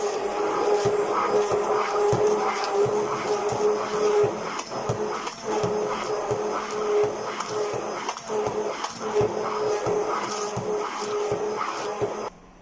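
An electric mixer whirs continuously while blending aloe vera gel into homemade body lotion, with a steady loud hum and faint rhythmic pulsing throughout.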